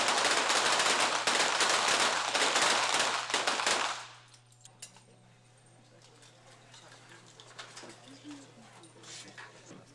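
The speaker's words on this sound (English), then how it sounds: "They continue to fire away." Rapid gunfire from a shooting competition crackles densely and loudly for about four seconds, then breaks off into quieter scattered shots and background noise.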